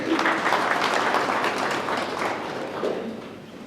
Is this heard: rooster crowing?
no